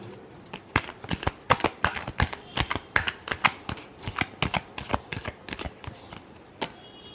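Tarot cards are shuffled by hand in a quick run of crisp riffling snaps, close and loud, repeating in an uneven rhythm for several seconds with no speech.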